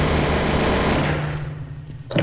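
Dense, continuous automatic gunfire from the video game Counter-Strike: Source, loud and sustained before thinning out toward the end, with no talking.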